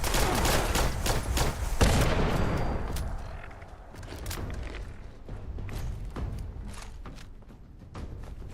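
Automated turrets open fire in Fallout 76, a dense burst of rapid gunshots that is loud at first, then continues as scattered, sharper shots at a slightly lower level.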